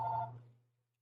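A telephone gives a single short electronic ring tone that fades out quickly into silence, heard alone.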